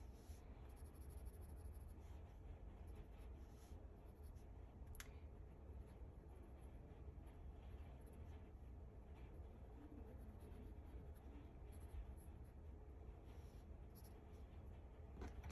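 A pencil scratches and shades on paper while a male face is drawn, a soft continuous scraping with faint clicks over a steady low background hum.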